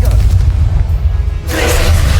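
A Confringo fire spell from Hogwarts Legacy blasts with a deep booming impact, followed by a bright hissing burst and crackle that trails off.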